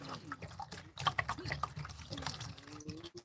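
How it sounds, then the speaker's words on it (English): Water is poured into the catchment tray beneath a potted tree, a soft, fairly faint trickle and splash with small drips throughout. "So I pour it right into the water catchment tray."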